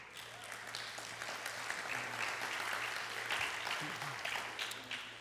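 An audience claps together at a talk, a steady wash of applause heard at moderate distance, with a faint low hum running underneath.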